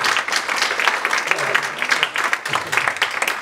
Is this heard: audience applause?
yes